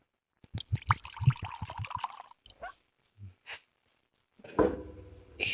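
Tequila is poured from a bottle in a few short, close liquid bursts and glugs, separated by pauses and trailing into a splashier pour.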